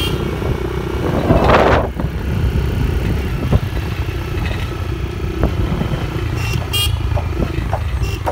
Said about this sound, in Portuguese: Buzinar!